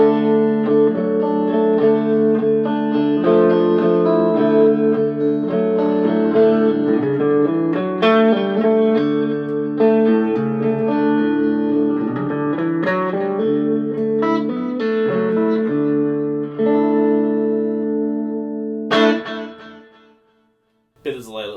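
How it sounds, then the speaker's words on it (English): A clean electric guitar through a Roland Cube GX amp's Jazz Clean setting plays a melodic line of sustained notes, each trailing into echoing delay repeats and a roomy wash of reverb, with no voices. "Bit of delay, a little bit of reverb on there as well, no chorus"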